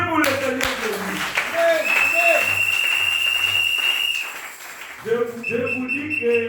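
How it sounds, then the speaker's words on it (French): Church congregation applauding at a Sunday service: a steady mass of clapping carries on throughout under talk, with a sustained sung or held tone running through the middle. "Applaudissez pour le Seigneur Jésus."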